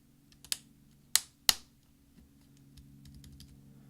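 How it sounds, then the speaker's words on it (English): Three sharp, separate clicks from a key snapping onto its clips on a 13-inch MacBook Pro Unibody keyboard, pressed down by a finger, close and fairly quiet with short pauses between them and faint fumbling after. "we're going to push down with our finger until we hear some clicks"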